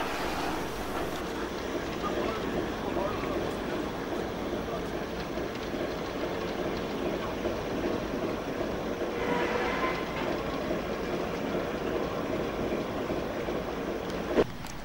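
British Railways standard steam locomotive 78022, fitted with a Giesl ejector, runs steadily in the Haworth shed yard, its continuous rumble and rattle heard at moderate distance, with a short sharp knock near the end.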